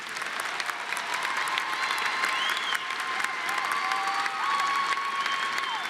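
An audience at a December university commencement ceremony applauding honor graduates, sustained dense clapping from a large crowd filling the hall steadily from start to finish, with a few faint cheers mixed in.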